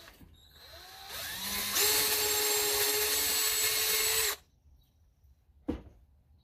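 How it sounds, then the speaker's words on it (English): A power drill whines loudly for a few seconds while drilling a hole in wood, speeding up then holding steady before cutting off, followed by a single sharp knock. "And I just drill a hole right there."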